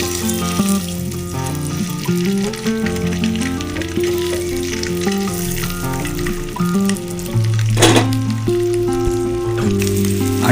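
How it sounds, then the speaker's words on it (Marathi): Three eggs fry in turmeric-tinted oil with a loud, steady sizzle and crackle, close up, while music plays underneath throughout. "तीन अंड्यांना आपण चांगली मस्त फ्राय करून घेऊया हळदीमध्ये,"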